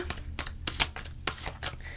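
Oracle cards being shuffled by hand, a quiet series of short papery riffles and slaps in an uneven rhythm, close up and alone with no talking.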